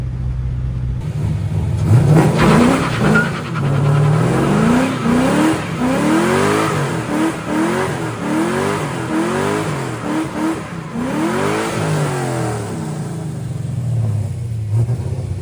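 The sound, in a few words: Pontiac GTO car driving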